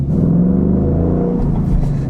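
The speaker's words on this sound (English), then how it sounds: "hit the engine start button, and it roars to life." The engine of a 2023 Ford Mustang Mach 1 with a manual gearbox roars from close by after a push-button start, a deep, steady rumble with no talk over it.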